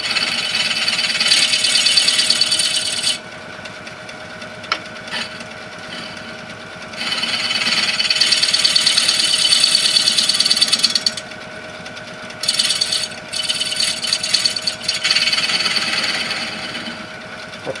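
A scraper held against a wooden spoon spinning on a wood lathe gives a steady, close, loud hiss and rasp, broken into bursts as the tool touches and lifts off the wood, with a constant motor hum beneath.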